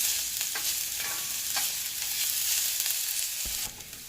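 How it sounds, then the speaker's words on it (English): Chopped onions sauté in hot vegetable oil in a pan, giving a steady close sizzle and frying crackle with a few soft stirring scrapes, quiet and without voices. "I'm going to put them in here and saute them until they're nice and translucent"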